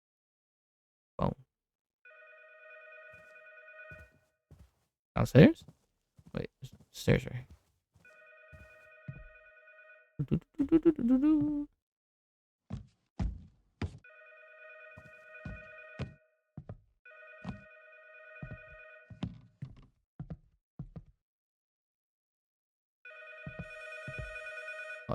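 Telephone rings in a video game, repeated electronic trill bursts in a regular pattern over about twenty-five seconds, interrupted by footsteps, clicks and knocks, with a person briefly talking between rings.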